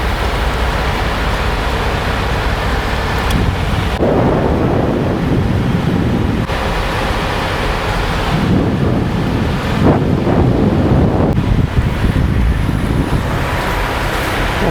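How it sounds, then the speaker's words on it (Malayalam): Heavy rain and gusting wind roar steadily throughout, loud and broadband, with the wind buffeting the microphone during a drive through the mountains of Montana. "ഒടുക്കത്തെ മഴ കേട്ടോ."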